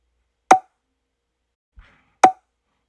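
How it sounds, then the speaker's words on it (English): Two crisp, isolated pops, spaced well apart, like a cork being pulled, with a faint soft tap between them and silence around. "He can sound like a cork."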